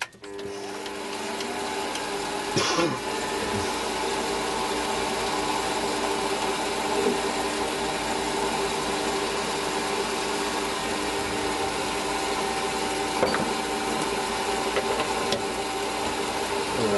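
A mini lathe runs steadily while facing and chamfering a small part, a constant mechanical hum with whining motor tones and occasional brief cutting scrapes, close and continuous with no talk.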